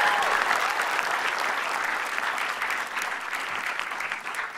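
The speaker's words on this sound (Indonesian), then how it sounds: "Tepuk tangan buat saya." Audience applause breaks out for a speaker, a full, steady burst of clapping from a crowd that stays strong and continuous, tapering only slightly toward the end.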